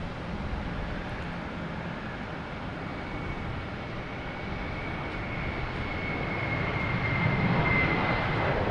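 A JetBlue jet airliner takes off at Boston Logan Airport, its engine roar building steadily louder toward the end, with a thin high whine running over the rumble.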